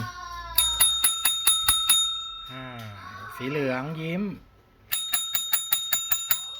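Metal desk call bells are struck in quick, bright rings, several at a time, with a short spoken pause in between before another run of crisp dings.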